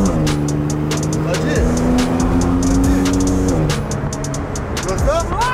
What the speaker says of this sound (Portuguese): Aí, acelera agora. Pode acelerar.